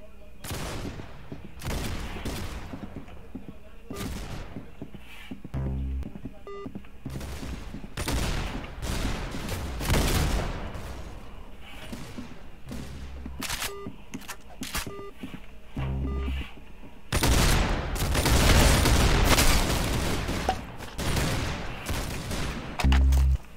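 Rapid gunfire in the Roblox shooter Arsenal, with repeated sharp bursts and single shots that grow into heavier sustained volleys, mixed with game effects and occasional talk.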